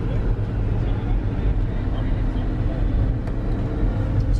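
A Maserati Levante 345 hp SUV drives with a steady low road and engine rumble from inside the cabin, while people talk over it.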